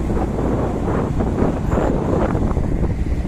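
Loud, blustery wind at sea buffeting the microphone, a constant rough roar with gusty surges throughout.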